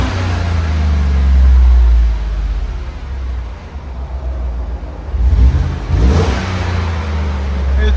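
A 2015 GMC Sierra 5.3L V8 fitted with a Borla Touring exhaust idles with a deep, steady rumble, then revs up briefly and settles back, loud and close, with a voice speaking faintly over it.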